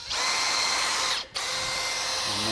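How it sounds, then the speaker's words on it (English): A power drill bores a 20mm hole through metal trunking in an industrial electrical installation, a loud continuous whine that cuts out briefly and then starts again. "So we'll drill our 20mm hole through the trunking"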